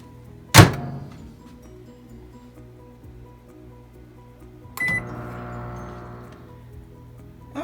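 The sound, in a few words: microwave oven running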